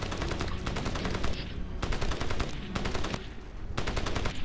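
Bursts of automatic gunfire from the first-person shooter Crysis, loud and close, coming in repeated rapid volleys with brief gaps between them and no talk over them.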